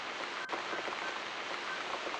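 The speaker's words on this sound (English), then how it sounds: "Looks like we've got the rain back." Steady rain falls in The Cat Lady video game, a constant soft hiss of drops with no voices.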